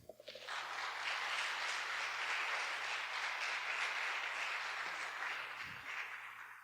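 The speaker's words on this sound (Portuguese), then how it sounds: "Dá um aplauso a Jesus, então." A church congregation claps steadily for several seconds, a dense, even patter at moderate distance that tapers off near the end.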